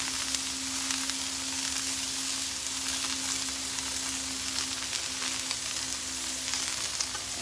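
Cudighi sausage links sizzle steadily in a hot skillet, a loud, continuous frying crackle with a low steady hum underneath and no voices.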